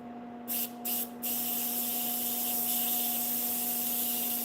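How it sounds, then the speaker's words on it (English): An airbrush sprays paint in two brief bursts, then a steady, even hiss runs on alone over a faint constant electrical hum. "Let's see how we're spraying here."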